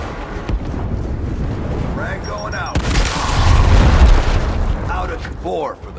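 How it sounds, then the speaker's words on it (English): A frag grenade goes off in the video game Gears Tactics, a deep booming blast that swells midway through amid game effects, with character voices talking over it. "Clear them out with a frag grenade."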